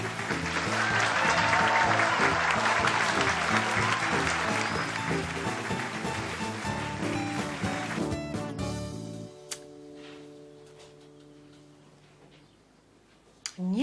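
Applause from a festival audience fills the first eight seconds, dense and loud, then breaks off sharply. Sustained tones and a few isolated clicks follow in the quieter tail.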